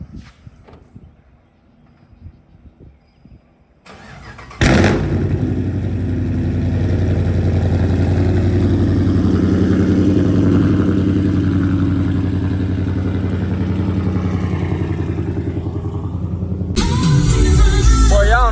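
A Chrysler car's engine starts by remote start, a steady loud idle rumble running on after an abrupt onset, with a brief clatter near the end.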